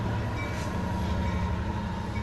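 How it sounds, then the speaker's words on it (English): A train rumbles past close by, a steady, heavy low roar of rail cars on the tracks with no voices. "And there goes the train."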